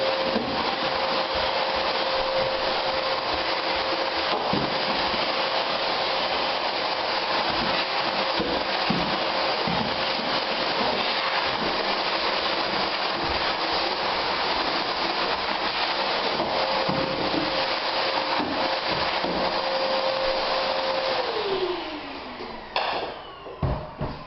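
A vacuum cleaner whines steadily at close range for a long stretch while cleaning up after sanding an interior door, with faint rubbing noises underneath, then powers down and winds off at the end.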